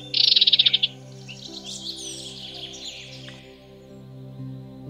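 Two red munias (red avadavats) gathering grass blades to build a nest give a quick burst of high, bright chirps at the start, followed by softer, continuous twittering. A steady low musical drone runs underneath the birds throughout.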